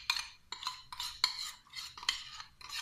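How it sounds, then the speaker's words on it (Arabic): Ingredients being mixed with a spoon in a bowl, leftover sauce included: repeated scraping, clinking strokes in a steady rhythm, close and moderately quiet, with no talking. "نمزج المكونات جيدا."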